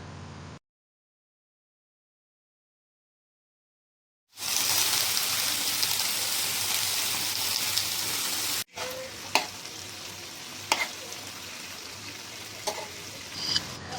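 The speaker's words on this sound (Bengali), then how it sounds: "তারপরে আমরা ভেজে নিলাম আলু ভাজা।" Potato pieces frying in hot oil sizzle steadily and close up after a short quiet start, with a brief break and a few sharp stir clicks and spikes over the continuous hiss.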